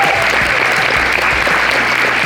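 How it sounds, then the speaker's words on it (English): Dense audience applause after a film screening Q&A, steady and loud clapping filling the whole moment without pause. "Let's give them a round of applause."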